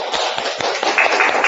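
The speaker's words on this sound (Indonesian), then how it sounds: "Kita kasih tepuk tangan" A classroom of students claps for a classmate in quick, close, rapid patter throughout, with no speech over it.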